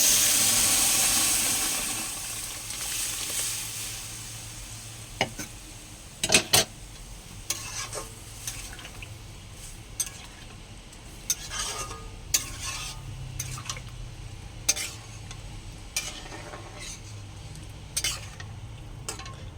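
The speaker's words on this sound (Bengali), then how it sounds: "এইবারে এর মধ্যে ডাল দিয়ে দেবো" A pot of mung dal cooking with drumstick, bitter gourd and bottle gourd after the dal goes in, with soft steady simmering and a fading hiss, while a spoon scrapes and clinks against the pot in scattered knocks, close by, no talk.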